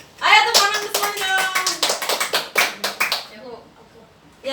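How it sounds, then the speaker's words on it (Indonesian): A classroom of people applauding together, a burst of dense, fast clapping that thins into scattered individual claps and fades, with a little voice noise mixed in. "Ayo tepuk tangan semuanya."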